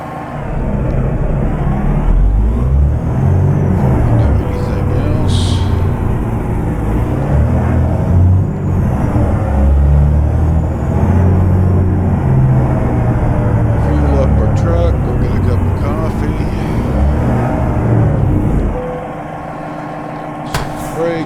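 Semi truck in American Truck Simulator pulling up to a fuel pump: a steady, loud low diesel engine rumble runs continuously, then drops to a quieter idle near the end, with a voice talking over it.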